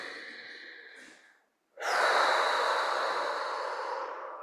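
Slow, deep breathing during a relaxation exercise at the end of a home Pilates session for over-55s: a soft exhale, a brief pause, then a long, loud, close breath that holds steady to the end.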